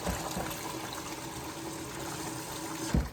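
Tap water running into a kitchen sink to thaw frozen chicken, a continuous close splashing flow with a brief louder knock near the end, no speech.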